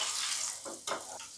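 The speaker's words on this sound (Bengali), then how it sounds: "আমি একটু বাদাম ভেজে নিচ্ছি এর সাথে।" Peanuts frying in a pan give a steady, close hiss of sizzling, with a brief stir or shift of the nuts partway through.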